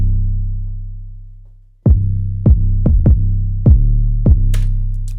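A deep 808 bass pushed through Destructor distortion starts as a long sustained note that slowly fades, then gives way to six punchy, gritty bass hits in a loose rhythm, loud and close with no voice.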